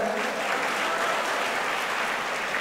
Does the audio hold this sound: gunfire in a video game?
no